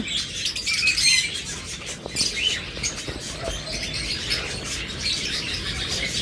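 A caged pair of green opaline pet birds chirps and tweets in quick, bright bursts, close by and fairly soft over a steady background hum.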